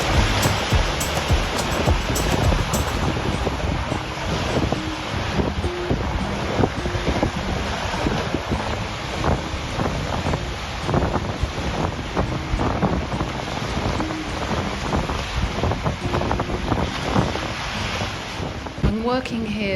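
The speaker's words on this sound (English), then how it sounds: "Back to the beach and this obsession with the rock pools" Steady wash of waves breaking on a beach beside rock pools, continuous and fairly loud with heavy wind buffeting the microphone throughout.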